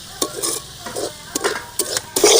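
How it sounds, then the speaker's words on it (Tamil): Pumpkin sautéing in oil in a pan while a spatula stirs it, giving a run of quick, close scraping strokes over a soft sizzle, with a louder burst of scraping at the end. "அப்படி எண்ணெயில் வதக்கி போட்டுக்கிட்டால் பச்சை வாசம் அடிக்காது"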